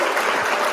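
A brief applause sound effect, under a second of dense, even clapping with no other sound.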